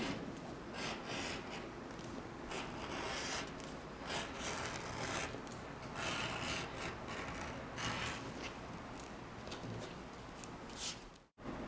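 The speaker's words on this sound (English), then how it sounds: "All I'm going to do for tonight is clean up these edges, cut these to their final shapes, and I think I'm going to burnish all the edges tonight." Leather edges on a custom tote being trimmed and burnished, heard as steady, close rubbing and rasping strokes that repeat in bursts throughout, with no talking.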